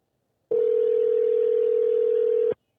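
A steady telephone tone sounds while a call goes unanswered before reaching voicemail, one continuous loud pitch lasting about two seconds with a sharp start and stop, alone with no talking.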